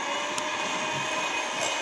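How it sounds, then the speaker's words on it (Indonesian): An electric mixer steadily whirs as it beats 50 grams of granulated sugar with two egg yolks for a steamed palm-sugar sponge cake, a continuous, even motor drone with no talking. "Tadi 50 gram gula pasir dan 2 butir kuning telur kita mixer."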